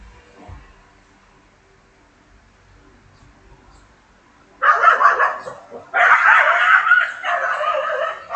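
A dog barks loudly nearby in two sustained bursts of rapid, high yapping, following several seconds of near silence.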